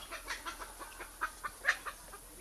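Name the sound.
guinea fowl calling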